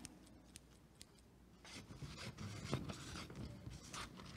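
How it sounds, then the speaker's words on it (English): Quiet snipping of scissors, a few sharp clicks at first, then a faint run of rustling cuts close by. "Those are scissors."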